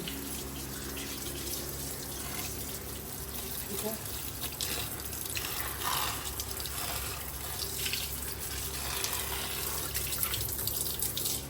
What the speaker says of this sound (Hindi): इनको पानी फेंकना है हल्का सा ज़्यादा है